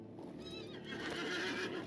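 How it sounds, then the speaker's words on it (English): A horse in the Lord of the Rings Online video game whinnies in a long, wavering neigh, with soft hoof clip-clops beneath it, fairly quiet overall. "Horse."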